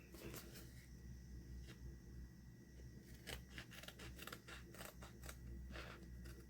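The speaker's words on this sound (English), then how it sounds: "maybe I can cut Ephy out" Scissors snip through paper while cutting out a drawn figure, a string of crisp, close cuts that grow busier in the second half over a steady low hum.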